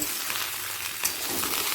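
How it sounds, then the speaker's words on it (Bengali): Mixed vegetables, including yardlong beans and green plantain, fry over high flame in a pan, giving a steady, close sizzle with bright crackling and a light stirring scrape near the middle, with no voices. "প্রত্যেকটা সবজিকে এক এক করে দিয়ে দিলাম দিয়ে একবার দু মিনিট ভেজে নিয়ে"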